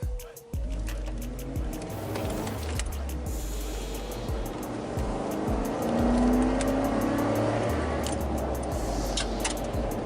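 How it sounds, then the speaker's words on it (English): A 2008–2014 Ford F-150 pickup pulls away semi-hard from a stop, its engine note heard from the cab rising and falling through several gear changes over steady road noise. "I'm going to come to a stop here, and I'm going to accelerate semi-hard"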